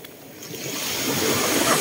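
Ocean waves at the sea by a beach resort in Infanta, Quezon: a steady wash of surf that swells gradually louder over a couple of seconds, with no talk.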